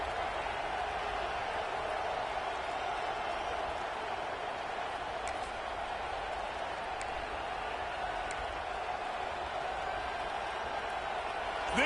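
A football stadium crowd roars steadily through a Gators third-down play, the dense, sustained wall of cheering staying loud and unbroken for the whole stretch.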